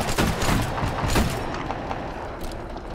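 DMR sniper rifle fire in the video game Titanfall, with two or three loud, sharp booming shots early on, then a rumbling battle wash that fades out.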